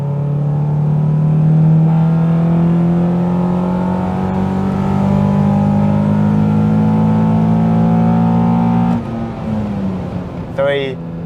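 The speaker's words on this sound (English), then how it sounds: "we're going to do a rolling race, but I'm going to be in 4th and he's going to be in 3rd" A Honda Prelude VTi-R with an H22 and an Accord Type S with a K24 accelerate hard in a rolling race, one in fourth and one in third, engine drone loud and steadily climbing, then a shift near the end.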